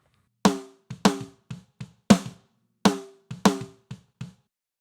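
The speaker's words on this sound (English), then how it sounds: "This is the snare top mic." A snare drum heard through its top microphone, from the Modern and Massive drum library, played in a punchy pop-punk pattern. Sharp, close cracks come with quieter ghost strokes and low kick bleed underneath, and no one speaks.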